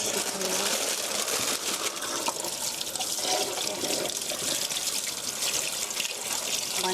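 Mushrooms are rinsed clean under a steadily running kitchen tap, a continuous broadband wash of water splashing into a sink that holds fairly loud and even for the whole stretch, with no talk over it.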